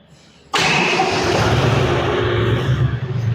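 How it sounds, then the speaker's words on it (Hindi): A 2024 John Deere 5105 40 HP tractor engine cranks and catches abruptly, then settles into a loud, steady diesel rumble close by. "अब मैं आप लोगों को चालू करके एक बार इसका साउंड सुनवा देता हूँ ट्रैक्टर का"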